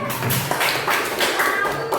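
A classroom of students applauds a classmate, a brief burst of many hands clapping close by, uneven and lively, lasting only a couple of seconds.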